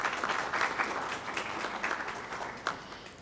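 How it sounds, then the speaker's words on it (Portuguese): An audience claps continuously, a dense patter of many hands at moderate volume, with no voices over it. "Uma salva de palmas, por favor, para o Lucas."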